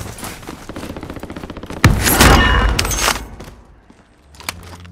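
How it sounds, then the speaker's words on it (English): Call of Duty Warzone match erupts with a rapid burst of gunfire followed by a loud grenade blast and crumbling debris, then scattered shots trailing off in the distance. "He's throwing grenades."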